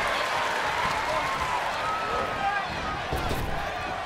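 Crowd cheering and applauding in the WWE 2K23 wrestling game, a steady roar of arena noise with thuds from the ring.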